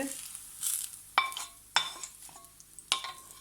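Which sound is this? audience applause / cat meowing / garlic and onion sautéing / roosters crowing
garlic and onion sautéing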